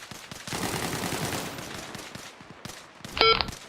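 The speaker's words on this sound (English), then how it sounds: "Let's give some fire down range." Rifle fire sent down range during an infantry field exercise, a dense rattling volley of shots heard at some distance, followed by a short sharp electronic beep near the end.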